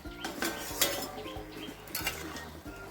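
A metal lid comes off a pot of vegetable khichuri with lentils, giving a few close clanks and clinks over a low kitchen hum, with faint bird calls in the background.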